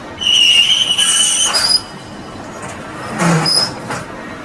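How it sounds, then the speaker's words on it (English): A rack of engine pistons is pushed into an aging oven, with high metallic squeals and scraping at the start and a second grinding, rolling push a moment later, loud and close. "Pushing this into the aging oven, something you have to put your back into."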